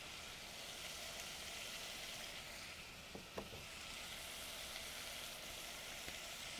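Onion and crushed garlic sizzle steadily in a hot pan with peppers, a soft continuous frying hiss with a couple of faint clicks midway.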